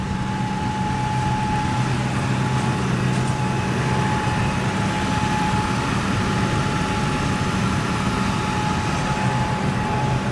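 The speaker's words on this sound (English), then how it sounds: "listen to that engine." An old $500 pickup truck idles smoothly after its first start of the season, a steady, even engine rumble with a faint whine running throughout and no talk over it.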